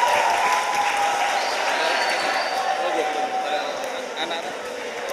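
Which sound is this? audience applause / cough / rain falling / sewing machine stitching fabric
audience applause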